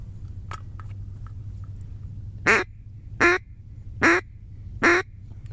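A mottled duck gives four loud, evenly spaced quacks close by in Louisiana marsh, following a few faint softer calls over a low background hum.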